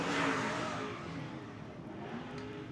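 A race car with a Maxim chassis makes a hot lap in a time trial, its engine loud and close at first, then easing into a steady roar as it moves away.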